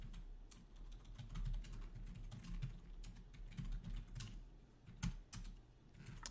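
Rapid typing on a computer keyboard during a network routing lab, with steady irregular key clicks and a few louder strikes over a low background hum, no talking.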